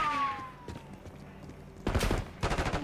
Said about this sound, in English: Who is shooting?